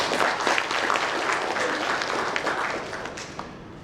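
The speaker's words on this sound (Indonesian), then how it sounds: "Tepuk tangan untuk kita." An audience applauds at a regional economic report dissemination event in NTT province, with loud, dense, steady clapping that fades slightly toward the end.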